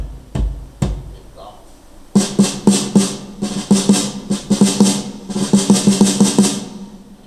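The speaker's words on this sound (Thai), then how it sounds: "อันนี้คือกอง อย่างเดียวเลย" A mixed drum kit plays alone: two opening hits, then a steady groove of kick, snare and cymbals, loud and close.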